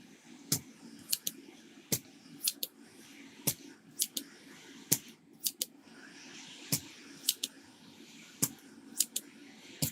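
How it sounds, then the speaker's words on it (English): A bent desoldering pump being worked on a Game Boy board repair, giving a series of sharp, close clicks and snaps at irregular intervals, about a dozen over ten seconds, over a low steady hum. "every time I try and use it, it doesn't want to click back down"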